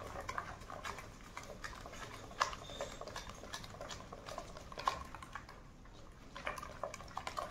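Batter for Mysore bonda with maida being mixed by hand in a bowl until bubbly, a soft, continuous wet slapping and ticking rhythm, fairly quiet and without speech.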